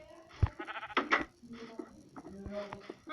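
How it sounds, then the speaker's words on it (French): Sheep bleating in a survival video game, several wavering bleats with pauses between them, close and fairly clear against a quiet game background. "il est gentil le petit mouton"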